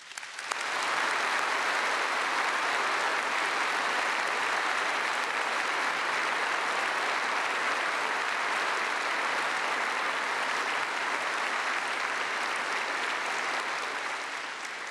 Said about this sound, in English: How about we do that with a round of applause for all those involved?